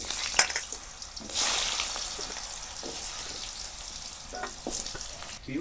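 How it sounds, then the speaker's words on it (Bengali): Potatoes frying in a kadai on a village-style cooking setup, a soft continuous sizzle with a louder burst as they go in and occasional clinks and scrapes of stirring, no talking. "এবার আলুটাকে আমি ভেজে নেব, এই কড়াইয়ের মধ্যে দিয়ে দিই।"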